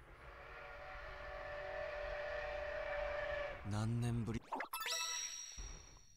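A steam train in the video game Sakura Wars rumbles along steadily, then gives a few whistle blasts near the end, with a voice briefly over it.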